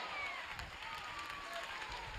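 Congregation clapping in a church service, a steady wash of hands continuing throughout at moderate distance, with faint voices underneath.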